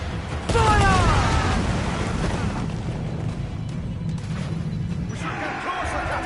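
Ship cannons fire during a naval battle in Assassin's Creed IV Black Flag, a heavy close boom that rolls into a long rumbling crash with creaking timber, and a second blast comes near the end over the constant din of battle.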